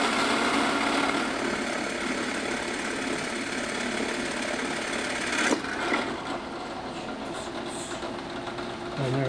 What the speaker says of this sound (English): Drill for the air vent on the 4-inch.